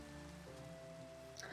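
Steady rain falls in Minecraft, a soft even hiss holding throughout with no talk, and a brighter brief sound breaks in near the end.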